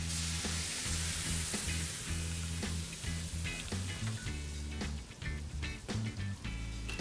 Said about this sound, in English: We're just gonna add a little bit of Sombuca to get a little bit of a flame.